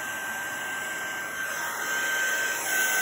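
A heat tool blows steadily on a stamped card, a continuous loud airy whoosh with a high whine that holds throughout and swells slightly toward the end.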